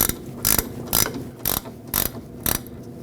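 A ratchet clicks in quick bursts, about six evenly spaced rapid pawl ratchetings, as an 18mm nut is snugged onto a rear sway bar link of a 2006-2015 Lexus IS250. The clicks are close and loud, with quiet between strokes.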